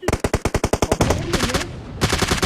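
Rapid automatic gunfire in the mobile battle-royale game PUBG Mobile, loud close bursts of evenly spaced shots for about a second, then a noisier stretch and another quick burst, with no talk over it.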